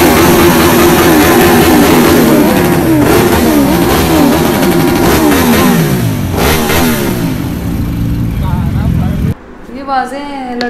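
Heavy motorcycle engines at a bikers rally rev loudly and continuously, pitch rising and falling in repeated surges, then drop suddenly near the end to a quieter, sputtering rev.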